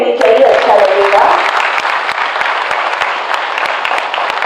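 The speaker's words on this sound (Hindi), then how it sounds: "तालियां बजती रहनी चाहिए, अच्छा लगेगा।" An audience at a Bihar State Disaster Management Authority foundation day ceremony claps loudly and steadily through a felicitation, a dense close applause that slowly thins, with a voice briefly heard over it.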